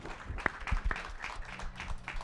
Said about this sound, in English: can we give a big round of applause to our panelists?